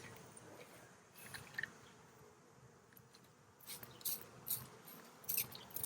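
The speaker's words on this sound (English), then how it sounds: "These bees have been very angry, very upset" Agitated honeybees buzz softly around a hive on a cloudy, humid day, a faint insect drone with brief louder passes as individual bees fly close, toward the end especially.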